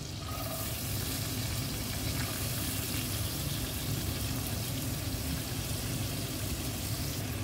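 Chopped onions fry in melted butter with a loud, constant sizzle and crackle that holds steady from start to finish, close and alone.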